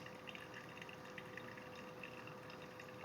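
Water poured over coffee grounds in a manual brewer, swirled in one spot to whirlpool the grinds, giving a steady, quiet trickling and gurgling wash that runs evenly throughout with no voices.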